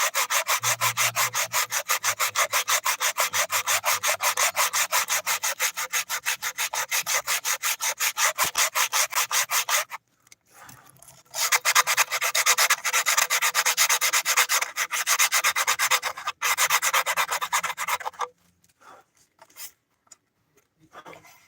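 Steady, rapid back-and-forth scraping of sandpaper on the wood of a handmade violin, loud and close, pausing briefly before resuming, then trailing off into quieter scattered rubbing.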